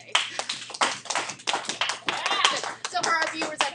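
Students in an algebra classroom clap in response to the teacher, bursts of close, uneven hand claps from many children with chatter and kids' voices mixed through.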